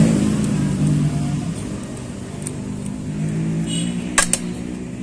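Yamaha Vega ZR motorcycle engine idling and revving after carburetor service in a workshop, heard as a steady, close engine drone with mild swells in pitch and two brief sharp clicks near the end.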